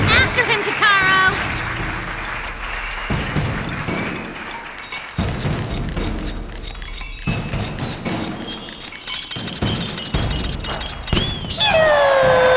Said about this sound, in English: Oh, I love the sound of fireworks, don't you?